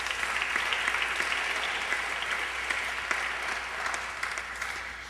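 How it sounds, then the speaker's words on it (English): Steady, full applause from a large conference audience fills the hall throughout, with dense overlapping claps at an even level. "So a round of applause for those wonderful young people at the conference."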